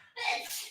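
A single sneeze bursts out after a brief quiet moment, close and fairly loud, with a breathy spray trailing off, in a sports betting podcast setting.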